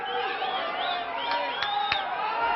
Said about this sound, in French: ce sont des sifflets adressés par le public à Daniel Nosed